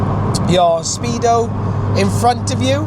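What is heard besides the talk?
Mini Cooper S car driving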